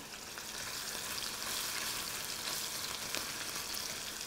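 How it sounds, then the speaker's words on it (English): Eggplant fries in hot oil turned down to medium heat, giving a steady, dense sizzle and crackle that continues without a break and without voices. "as this is frying, I'm just gonna continue to turn it every now and then until the eggplant is completely nice and soft"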